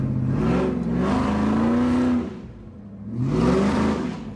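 A modified Ford SVT Lightning truck engine revs hard and accelerates close by, rising and falling in pitch, dropping briefly before surging again, loud with no talk.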